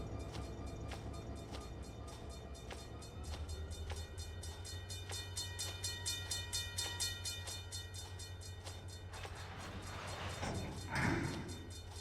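A freight train rolls through a railway simulator game with a constant low engine rumble and steady rhythmic clicks of wheels crossing rail joints, plus a brief louder clank near the end. The sound is moderately loud and continuous, with no voices.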